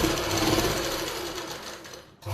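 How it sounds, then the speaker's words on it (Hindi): A sewing machine stitching the lining of palazzo pants runs as a steady, fast mechanical whir, close and fairly loud, then stops briefly before a short restart. "फिर से हम ये एक पैर का मार्जिन छोड़ते हुए सिलाई लगा लेंगे"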